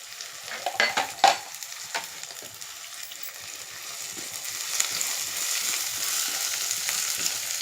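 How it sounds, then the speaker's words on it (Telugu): Cashews, onion and drumstick curry ingredients fry in a pan. A few clattering stirs open the sound, then a steady close sizzle builds and continues alone. "జీడిపప్పు కూడా ఇవన్నీ మన ఇంగ్రీడియంట్స్ అన్నీ వేసేసుకుని ఫ్రై చేసేసుకున్నాం"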